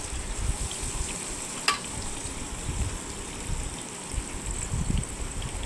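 Chicken deep-frying in oil for catering-style chicken fry, a loud continuous bubbling sizzle with a steady hiss and one sharp clink midway.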